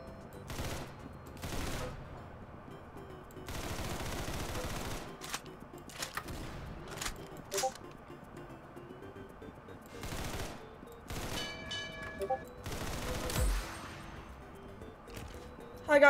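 Gunfire from the Roblox Arsenal video game: repeated bursts of rapid automatic shots and single cracks in irregular clusters, loud and close, separated by quieter gaps.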